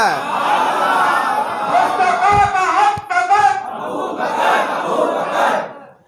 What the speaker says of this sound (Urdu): تھوڑا نعرے کم کریں